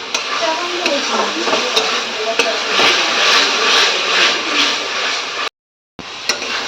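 Spice paste fried and stirred in a pan in a home kitchen, a steady broadband sizzle with scraping stirs throughout, someone talking over it, then a brief dropout near the end.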